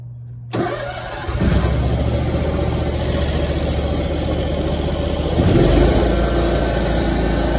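A riding lawn mower with blades that won't engage cranks over and catches, its engine settling into a steady mid-pitched run, then revving up near the end, loud and close with no talking.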